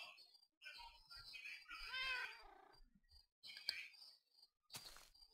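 Cats meow in a video game jungle biome, with a few short, faint mews and a purring murmur in quick succession, quiet overall.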